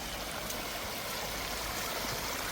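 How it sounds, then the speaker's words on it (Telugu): Rainwater rushes steadily through flooded paddy fields after untimely rains, a dense, even, continuous wash of flowing water close by with no voices over it. "అది కాక ఇంక ఎక్స్ట్రా నీళ్ళు మళ్ళీ మా దాంట్లోకి పోతున్నాయి"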